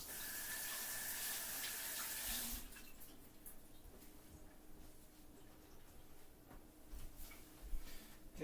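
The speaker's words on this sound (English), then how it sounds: "Just gonna rinse my hands." Kitchen tap water running briefly at the sink while hands are rinsed, a soft hiss that stops after a couple of seconds, leaving a quiet room with faint ticking and small clatters.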